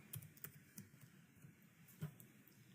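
Keys on a computer keyboard are typed in a short burst of several quiet, separate clicks, spaced unevenly, close by in a calm room.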